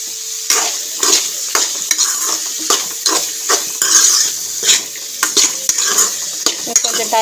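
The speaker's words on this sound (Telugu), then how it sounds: "ఈ కొబ్బరి ముక్కలు కూడా మంచిగా ఫ్రై అయితే తర్వాత చట్నీ చేసుకోవచ్చు." Coconut pieces fry in a hot pan while a spoon stirs and scrapes them, giving a steady sizzle broken by repeated close metallic scrapes and taps, with no talk.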